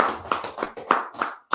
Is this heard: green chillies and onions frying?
no